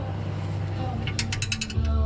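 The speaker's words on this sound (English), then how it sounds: "Trusty 13mm spanner." A 13mm spanner works the oil drain plug on a VZ Commodore 6-litre V8, giving a short run of close, quick ratcheting clicks near the end, over a low background hum.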